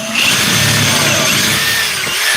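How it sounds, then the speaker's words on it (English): A power drill bores into a wooden drawer cabinet during a carpentry build, a loud, steady whirring grind that holds for the whole stretch without letting up. "you'll take your drill and you'll come into the bottom hole"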